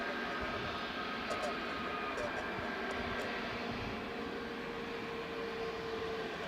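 A Jet2 airliner at Leeds Bradford Airport gives off a continuous loud engine roar and rumble, steady and close, with a voice speaking over it.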